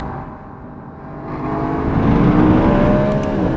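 A BMW E92 M3 pushed hard on a race track, its engine droning loud and close from inside the car and rising steadily in pitch as it accelerates.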